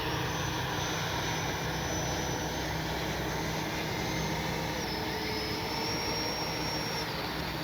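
An FMS Rafale 80mm electric ducted-fan RC jet flies past on a morning flight, giving off a continuous loud whooshing whine that holds steady throughout, with slight pitch shifts and no talking.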